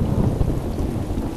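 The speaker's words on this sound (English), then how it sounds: "I don't care if it's raining." Steady rain and a rumble of thunder fill the whole stretch as a dense, continuous wash, loud and close, with a deeper boom near the middle and no voices.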